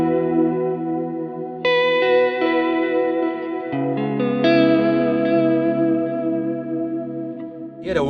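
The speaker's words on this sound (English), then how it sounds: "The flutter actually just makes your sound a bit more wobbly." Electric guitar run through a Line 6 Helix Retro Reel wow and flutter effect, sustained chords and notes swelling with a wobbly, pitch-warbling chorus-like shimmer and echo, played alone without talk, closing on a brief pick scrape.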